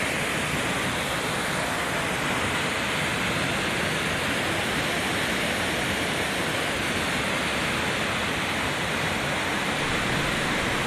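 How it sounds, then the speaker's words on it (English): Nanataki Waterfall in Iwate, Japan, a steady loud broadband roar of falling water beside a small gorge, unbroken and dense with no voices. "the noise from the waterfall is pretty loud here"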